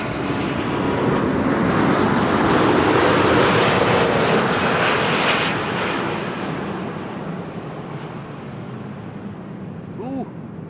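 A Delta Airlines airliner arriving from Minneapolis at Amsterdam Schiphol roars loudly and steadily, its broadband engine rush swelling to a peak and then easing off as it passes, with a voice speaking faintly near the end.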